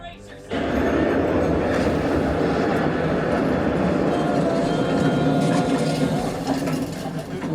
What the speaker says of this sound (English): Literally a train ride on a cruise ship, 12 out of 10.